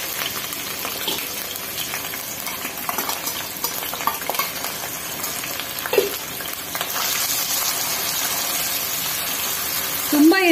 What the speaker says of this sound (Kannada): ನೆಕ್ಸ್ಟ್ ಇದಕ್ಕೆ ನಾನು ಬೇಯಿಸಿ ಇಟ್ಕೊಂಡಿರೋಂತ ಕ್ಯಾರೆಟ್ ಹಾಕ್ತಾ ಇದೀನಿ।